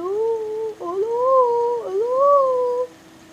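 A person imitates a dog howling, producing about three long, wavering, rising-and-falling howls back to back, loud and close, alone without other talk.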